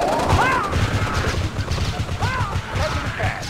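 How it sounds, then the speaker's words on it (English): Artillery salvos fire in the Red Alert 2: Yuri's Revenge strategy game, with repeated booming and crashing blasts in quick succession over a dense battle din, mixed with unit voice lines. "Firing salvo."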